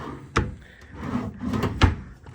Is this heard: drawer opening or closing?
yes